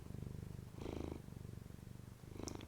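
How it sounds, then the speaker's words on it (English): A cat purring close by, a steady low rhythmic rumble that runs through the whole stretch in pulsing breaths, with a brief higher sound near the end during a quiet meditative yoga session. "Can you hear him purring?"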